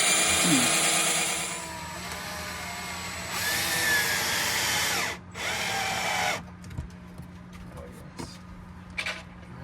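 A power drill boring through thin wood whines loudly in bursts, cutting in and out, then winds down to quieter scraping and handling noises.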